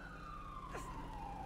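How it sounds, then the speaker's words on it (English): Police siren in a GTA roleplay game, a steady wailing tone sliding slowly downward, moderately loud over a constant low engine-like rumble, with a faint voice briefly underneath. "I haven't used the siren in a long time"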